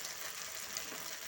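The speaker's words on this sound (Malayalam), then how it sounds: "അങ്ങനെ നമ്മൾ മസാല വരട്ടി വെച്ച പയർ വിഴുക്ക് പൊരിച്ചെടുക്കുന്നതിനായിട്ട് അല്ലെങ്കിൽ വിഴുക്ക് വരട്ടുന്നതിനായിട്ട് തിളച്ച എണ്ണയിലിട്ട്" Masala-coated pea stir-fry frying in boiling oil in a pan, a steady faint hiss and crackle of sizzling that continues evenly throughout, with no talk.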